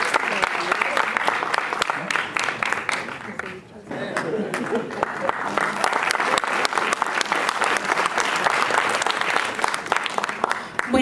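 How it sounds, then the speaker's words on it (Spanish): Sustained audience applause at an awards ceremony for a second-place animation project, dense clapping that dips briefly midway then swells again and carries on steadily to the end. "Aplausos para él y para todo su equipo."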